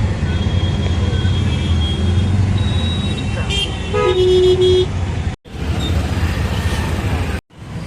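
Heavy road traffic rumbles steadily and loudly, with car horns honking, including one long sustained toot over the continuous engine noise. The sound cuts out briefly twice.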